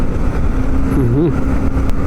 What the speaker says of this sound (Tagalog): Ang motor nito Bispa ata eh, matulin eh oh.